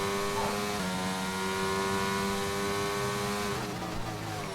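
Formula 1 race car engines in an F1 video game scream steadily at high revs, loud and continuous, with a gear shift near the end as the pitch changes.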